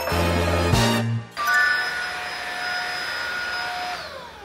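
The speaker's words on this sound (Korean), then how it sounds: "이 청소기 소리만 들리면" A household vacuum cleaner hums steadily and fairly loudly, with a brief dip as its pitch shifts and a high whine settling in, running alone without voices.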